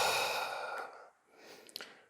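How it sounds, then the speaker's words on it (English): A long open-mouthed exhale during a yoga session, a breathy rush of air that fades, followed by a softer short breath. "Exhale with an open mouth."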